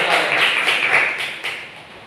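A group of students in a classroom applauds with a dense burst of clapping that fades and thins out over about two seconds, with a couple of late claps.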